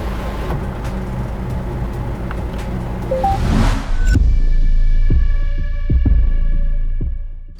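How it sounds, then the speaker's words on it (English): Sunroof of a 2022 Hyundai Venue facelift slides open inside the cabin, a steady motor hum with light clicks, then a thud as it stops, followed by a lower sustained hum and soft knocks, close and fairly loud. "Opening the sunroof."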